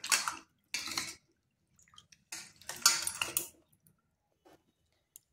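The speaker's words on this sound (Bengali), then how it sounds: "এগুলোকে বেশ ভালো করে এইভাবে চটকে চটকে ধুয়ে নিতে হবে" Pieces of taro washed by hand in water clatter and splash in a vessel in short, separate bursts with quiet gaps between them, close by and with no speech.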